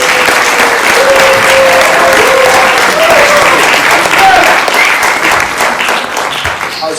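Loud, steady applause from a conference audience welcoming a speaker to the podium at a flat earth conference in Amsterdam, a dense continuous roar of clapping with faint cheers, alone and without talk.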